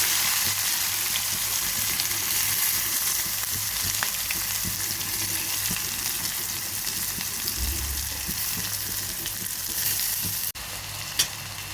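Onion tipped into hot oil already holding mustard seeds, cumin, crushed garlic and curry leaves, for a bitter gourd dish, gives a loud, steady sizzle with stirring scrapes and a brief deeper bubbling swell near the end, no voices.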